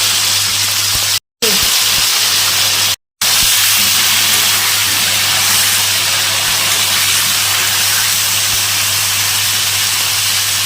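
Cauliflower fries in a hot pan with salt, giving a loud, steady sizzling hiss that runs continuously, broken by two brief silent gaps near the start.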